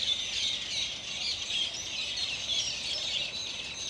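A crowd of birds calling from a nest-filled tree in Innisfail, Australia, keeps up an unbroken, high-pitched chatter, moderately loud and somewhat distant, with a few sharper chirps standing out.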